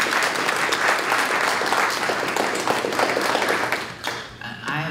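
An audience at a school board meeting applauds steadily, claps filling the room loudly for a few seconds before fading out near the end.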